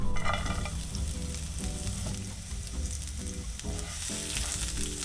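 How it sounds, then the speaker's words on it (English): Carrots sauteing in sesame oil in a pan, a steady close sizzle and crackle throughout, with faint stirring scrapes underneath and no talking. "Now I'm just sauteing my carrots in some sesame oil."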